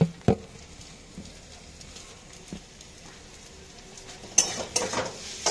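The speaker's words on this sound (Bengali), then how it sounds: "আর একটু নেড়ে নিই" Chow mein tossed with masala in a pan, stirred with a few sharp scrapes and clatters against a soft, steady sizzle, with a busier burst of scraping toward the end.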